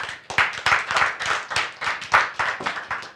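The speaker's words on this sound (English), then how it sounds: "Give yourselves a round of applause." A small studio audience gives a round of applause, distinct claps forming an uneven rhythmic patter that swells and dips, fairly close with no talking over it.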